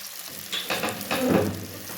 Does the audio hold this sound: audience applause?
no